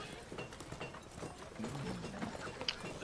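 Rapid clip-clop of hooves from mounted guards on horseback. The irregular hoof strikes patter at moderate loudness over a busy background, with no talk.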